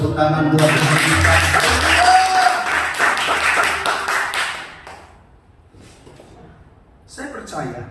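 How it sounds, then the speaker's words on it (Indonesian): A church congregation at a Tuesday worship service bursts into a few seconds of lively, loud group clapping mixed with voices. The clapping fades to quieter room noise, and a speaker's voice follows. "Tepuk tangan buat kita."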